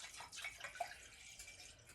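Liquid poured into a container while making breakfast for dinner, a soft continuous trickling stream, faint and close, with no talking.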